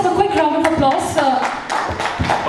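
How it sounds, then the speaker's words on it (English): Quick round of clapping from a small group of media members at a film press meet, steady close applause with some voices murmuring underneath. "Let's have a quick round of applause."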